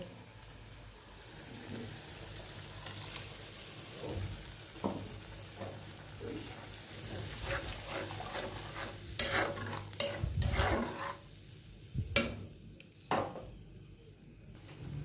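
Spice-rinsed water poured into a pan of paneer curry, a soft steady sizzle with scattered clinks and scrapes of stirring that grow louder and busier toward the end, with no talk.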